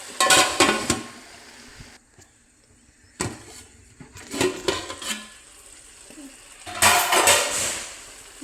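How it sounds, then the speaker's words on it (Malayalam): A pot of chicken gravy with curry leaves clatters as metal cookware and utensils knock together, in three loud bursts of clanking and scraping separated by quieter gaps. "ഒരു രണ്ട് മിനിറ്റ് നേരം ഒന്ന് മൂടി വയ്ക്കാം"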